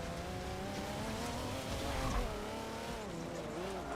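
Race cars in a Forza 7 S-class online lobby race around a banked track, engines droning steadily with rising and falling revs and faint tire squeal throughout, close and loud.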